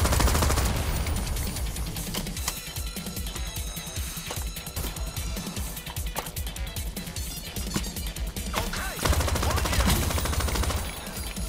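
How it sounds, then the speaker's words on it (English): Gunfire in the video game Crime Boss Rockay City during a money train heist, with rapid automatic bursts and scattered single shots crackling continuously over a busy game soundscape, loud and close throughout. "I'm gonna keep shooting at these guys if you wanna keep grabbing bags."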